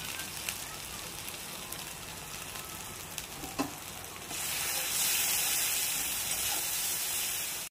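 Ginger, garlic, green chili and cumin fry in hot oil, a steady close sizzle that swells louder and brighter about halfway through.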